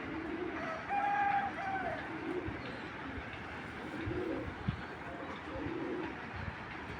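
Racing pigeons coo softly in low, rolling phrases that repeat several times, close by against a murmur of background noise.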